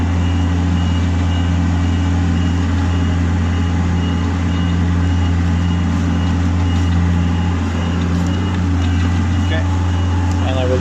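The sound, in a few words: HR21D SP64D machine driving at full speed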